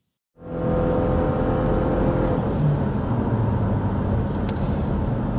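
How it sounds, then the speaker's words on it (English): A 2026 Toyota RAV4 or Subaru Forester with an eCVT accelerates, its engine rising abruptly into a steady, even drone heard from inside the cabin, moderately loud and without speech. "as I accelerate, this has an eCVT, so a little bit different than the traditional CVT"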